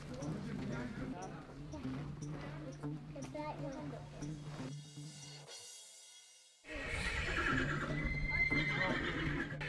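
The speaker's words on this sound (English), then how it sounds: "one of the horses made a bit of a neigh" A horse neighs loudly near the start, then hooves clip-clop amid ambient noise, with a sudden drop to quiet before the noise resumes.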